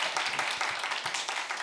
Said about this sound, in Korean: 우리 같이 사랑과 격려의 박수 한번 보내주시겠습니다.